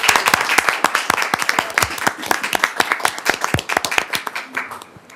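A room of meeting attendees claps for a group of employees, a dense burst of many hands clapping steadily and close by, with no voices over it.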